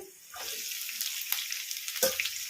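Long-cut onions sizzle and crackle in hot oil for a tempering, a steady frying hiss with a few sharper pops and stirring scrapes, close by.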